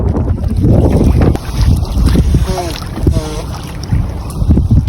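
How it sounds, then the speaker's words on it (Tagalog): Strong wind buffets the microphone on a fishing boat at sea after a storm, loud gusting rumble throughout with brief voices and faint squeaks in the background. "Ay, malakas yung hangin."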